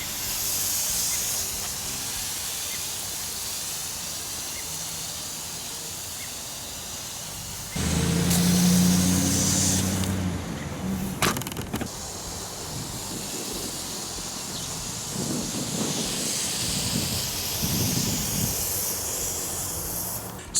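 Weed killer hisses out of a ready-to-spray bottle onto a lawn as broad steady spray noise, a few seconds louder near the middle and then trailing off, with no talking.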